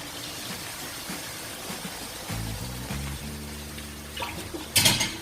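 Hot water poured into a pot of chicken curry, a soft liquid splash and bubbling pour in a home kitchen, fairly quiet and close, ending with a brief brighter burst of hiss.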